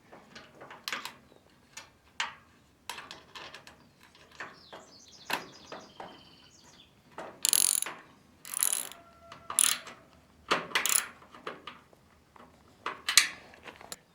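A trailer tail light fastener is tightened with a 13/32 wrench: a nearby series of short ratcheting clicks and metallic scrapes, coming in irregular bursts over several seconds with brief pauses between.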